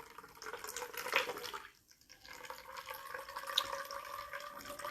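A brown sugar bourbon drink with a whole clove is poured into a glass, a soft, close liquid trickle with small splashes and a short pause midway.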